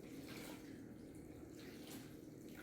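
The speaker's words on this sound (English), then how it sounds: "Then we are going to put some more water on top of this." Water is poured over soaking sabudana (tapioca pearls) in a kitchen, a steady, quiet splashing rush that runs without pause and with no talking.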